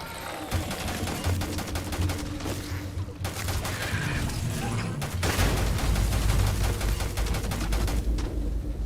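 Rapid bursts of video-game gunfire in Starfield's dungeon combat rattle almost continuously, with a brief pause before dense fusillades resume, loud and close with heavy low-end thumps.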